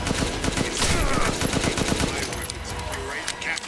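Rapid video-game gunfire in Resident Evil Village VR mode, a fast steady burst of shots over the first two and a half seconds that fades into quieter background noise.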